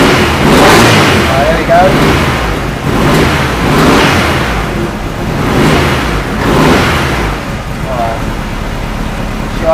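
A Honda Civic EG with a B20 VTEC engine running at idle on its first start, giving a loud, close, steady rumble that swells and eases slightly, with a person talking briefly over it.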